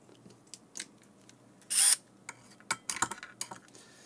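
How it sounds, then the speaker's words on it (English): Several short metallic clicks and scrapes of screws being worked out of a 48V AC golf cart motor controller, with one louder burst of rasping in the middle and a scatter of quieter taps toward the end, close up and without talk. "First, I'm gonna remove all the exterior parameter screws"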